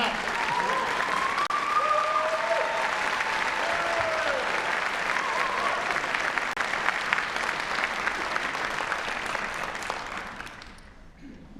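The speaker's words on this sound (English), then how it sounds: "Clap." Sustained applause from a large crowd at a university doctoral hooding ceremony, steady and dense for about ten seconds before tapering off, with a few faint vocal tones riding over the clapping.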